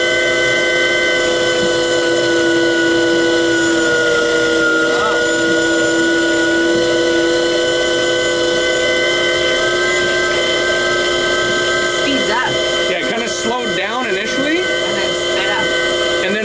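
An off-grid micro hydro turbine runs with a nozzle opened, producing a loud, continuous, close roar of rushing water jet with steady whining tones, and some shifting sounds near the end.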